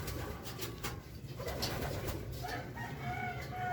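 Racing pigeon from a fun race club cooing softly while being handled and dosed with pills, low murmuring coos over steady background noise, fairly faint.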